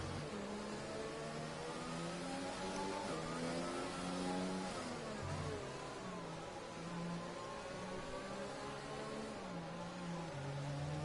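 Formula 1 cars in F1 2020 at the Singapore circuit running under the safety car, engines droning loudly and continuously with gliding pitch changes, no talking.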